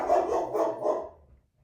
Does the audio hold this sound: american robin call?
no